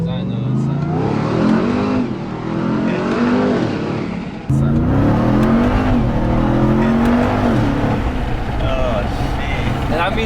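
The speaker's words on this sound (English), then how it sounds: "it's kind of crazy that it's such a silent truck until you punch on it" A 2021 Ram TRX pickup truck accelerating hard, a loud, continuous engine roar that climbs in pitch, dips briefly and surges again, heard from inside the cab with people talking over it.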